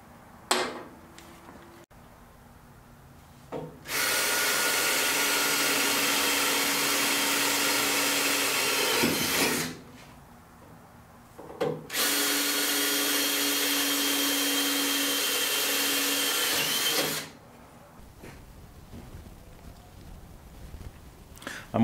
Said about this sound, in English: I'm going to drill these out, and I'm going to start off with a small one and then step up to my 5/16.